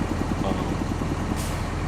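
A large JCB 8000 series tractor pulling a big trailer in Farming Simulator 25 gives off a steady, close, low engine drone with a faint pulsing throb, plus a brief hiss near the end.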